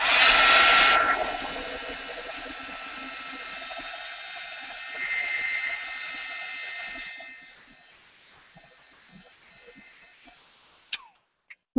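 A hair dryer blows loud and steady at first, then drops to a lower hum while drying paint on art journal pages laid with black gesso and fluid acrylics, before cutting off with a few small clicks.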